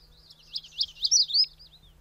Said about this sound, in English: In denser growth, the magnolia warbler appears.